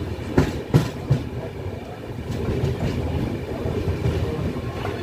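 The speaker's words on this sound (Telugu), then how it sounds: "మన ట్రైన్ అయితే నాయుడుపేట స్టేషన్ నుండి అయితే బయలుదేరిపోయింది" Passenger train pulling out of Naidupeta station on the Chennai Central to Vijayawada line, heard from on board: a few loud rhythmic wheel clacks over rail joints, then a steady rolling rumble as it gathers speed.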